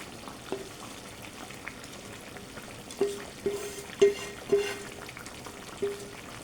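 Sautéed onions go into a hot frying pot, giving a low sizzle with several soft clunks and stirring knocks spaced unevenly, close by and moderately quiet, with no talking.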